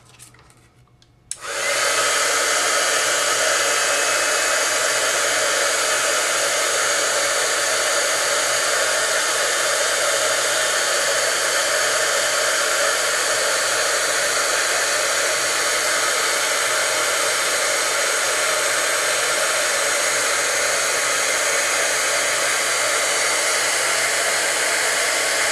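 Heat tool blowing to heat-set embossing powder switches on after a brief pause and then runs as a loud, steady whooshing roar for the rest of the time.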